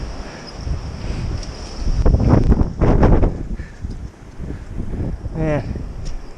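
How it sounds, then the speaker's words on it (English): Strong wind buffeting a microphone on a mountain summit on a clear morning, a steady roaring rush that swells in gusts, with someone talking over it. "It's really windy. It's almost blowing me over sometimes."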